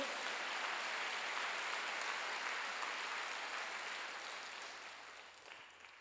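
A church congregation at a Wednesday worship service applauds together, a smooth, continuous wash of many hands clapping that stays steady and then slowly fades away toward the end.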